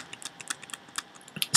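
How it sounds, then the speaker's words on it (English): Keys on a Mac computer keyboard are tapped in a quick, light run of soft clicks, close by and otherwise quiet, ending in one louder keystroke while text is arranged in PowerPoint. "use the tab key on your keyboard"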